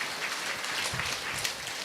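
A church congregation claps during a Sunday service at A.C.A. Church in Karim Nagar. The clapping forms a steady, dense wash of hand claps that lasts throughout, with no voices over it.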